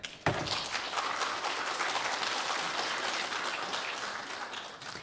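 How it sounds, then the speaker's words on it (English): Audience applause at a conference session on China's green policy at CAEXPO: a sustained, moderately distant round of clapping from a crowd that starts abruptly and continues steadily, with no speech over it. "Please give a warm applause for her."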